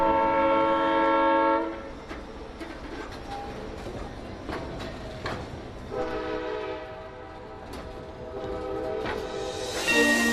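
A White Pass and Yukon Route Railroad train sounds a long, loud horn blast, then rumbles and clatters along the track before the horn returns near the end.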